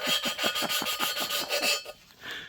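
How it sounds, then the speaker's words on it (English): Valves are lapped back and forth by hand into 243 cylinder heads, giving about nine quick, regular rasping strokes before a pause and a softer final rub. "It's called lapping. You're lapping."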